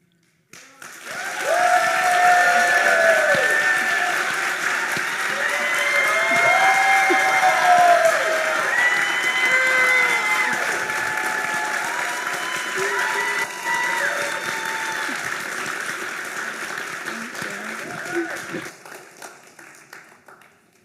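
Sustained applause and cheering from a TEDx audience after a talk, loud and dense, with shouts and whoops mixed in, swelling early, holding for about twenty seconds and then fading out.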